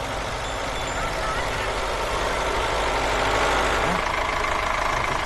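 A tractor's engine idling outdoors, a steady loud low rumble that runs unbroken throughout.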